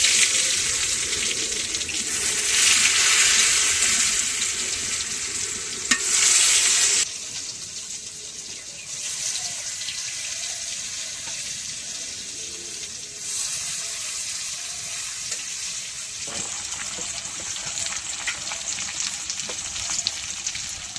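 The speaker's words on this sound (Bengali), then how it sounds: "এখন এই যে আলু ভাজি করবো, আলু ভাজি তেল দিই।" Potatoes fry in hot oil on a home stove, hissing with a steady crackling sizzle that swells in bursts at first, then settles into a quieter, continuous frying sound.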